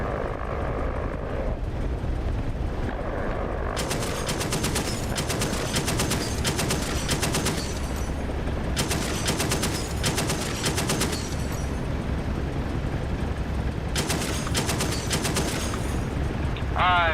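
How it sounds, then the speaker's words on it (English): Several units in the DCS World combat game open fire in long rapid automatic bursts, loud and dense, separated by pauses under a constant engine drone, with brief radio-style talk at times. "Now they're all shooting."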